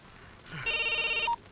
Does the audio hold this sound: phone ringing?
yes